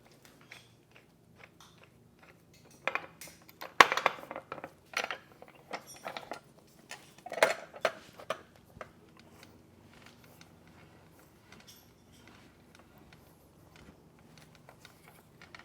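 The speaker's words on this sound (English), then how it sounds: "we're going to start to cut the pipe" A gas pipe is cut and cleaned with a hand pipe cutter and reamer, producing intermittent ratcheting, clicking and grinding metal-on-metal bursts, loudest in the middle, then quieter scraping toward the end.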